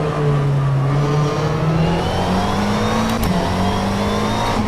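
A McLaren 720S GT3 race car in rFactor 2 at Circuit de Catalunya, its engine droning loud and steady, with pitch climbing through the gears and a brief shift blip partway through, no voices.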